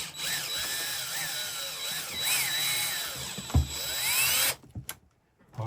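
DeWalt power drill running a screw in, a loud close whine that rises and dips in pitch over several seconds as the load changes, then cuts off into near silence broken by a couple of short knocks.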